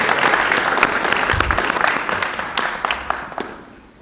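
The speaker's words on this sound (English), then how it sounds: "I want to give you all another round of applause" An audience at a town council meeting gives a loud round of applause. The clapping is dense and steady for about four seconds, with a few sharper claps standing out, before it tapers off.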